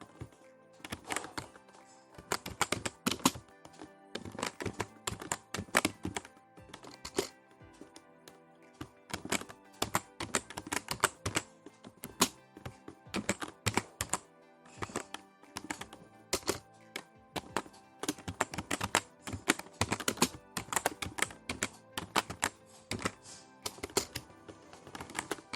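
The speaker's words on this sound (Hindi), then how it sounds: "अब हम नेम लिखेंगे।" Rapid bursts of typing on a computer keyboard while entering data into an MS Excel spreadsheet, steady clicky keystrokes coming in quick clusters with short pauses, close and alone with no talking.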